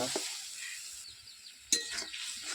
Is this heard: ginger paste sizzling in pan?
yes